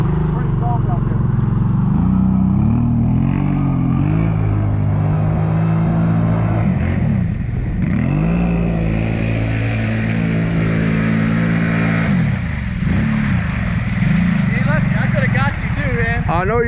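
An off-road truck on BigHorn 3.0 tires revs hard while cutting donuts in soft mud, its engine rising and falling in repeated surges, close and loud, with people talking over it.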